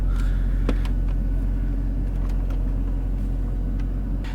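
Mercedes S63 AMG engine with very little fuel left, heard as a steady, loud, low rumble that holds for the whole stretch, with no clear rise from a rev and no talk over it.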